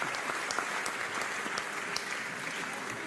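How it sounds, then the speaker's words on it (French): Audience applause at the 2022 Ballon d'Or ceremony, a steady, dense wash of clapping that holds evenly throughout, with a faint murmur of voices beneath. "Allez, on l'applaudit."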